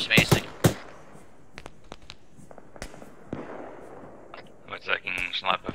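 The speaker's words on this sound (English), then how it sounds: "We're taking sniper fire from our rear." Sniper fire from the rear in the military shooter Arma 3 rings out as a series of sharp, scattered gunshot cracks, some near and loud, others fainter, with a few voices and a busy burst of shots at the end.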